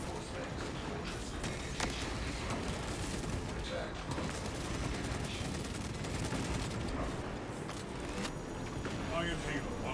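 Defensive cannons firing in a Warhammer 40,000 space combat video game, a dense barrage of rapid booming shots over a rumbling background, with voices talking throughout.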